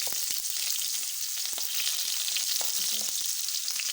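Onion dropped into very hot oil with cumin and kalonji sizzles loudly and steadily, a dense frying hiss scattered with small crackles and pops throughout.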